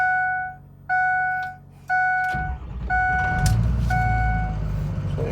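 A Ford 6.0 diesel truck that has been sitting: warning chimes pulse at an even rhythm, then the engine cranks and catches into a loud, steady rumbling idle while the chimes keep sounding over it.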